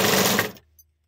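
A sewing machine stitching the neckline of a blouse runs in a dense steady whir, then stops abruptly just past half a second, leaving near silence.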